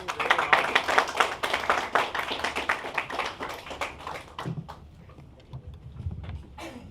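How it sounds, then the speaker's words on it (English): Audience at a school outreach event claps for an attorney, a burst of applause that is brisk at first and then thins to a few scattered claps before fading out. "Let's give it a round of applause for Attorney Ray."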